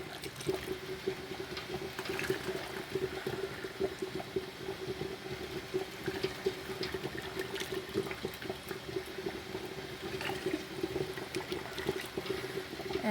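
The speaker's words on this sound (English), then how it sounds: "I'm straining it over the lid or over the cheesecloth to catch any bits like that didn't come out with the spider." Hot beef bone broth being strained through cheesecloth makes a soft, continuous trickle and patter of liquid, faint and steady throughout over a low background hum.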